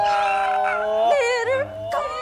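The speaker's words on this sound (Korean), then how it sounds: "강아지 맞춰서 불러주시네요." A dog howls along with singing, drawn-out wavering wails rising and falling close by, mixed with the sung melody over about two seconds.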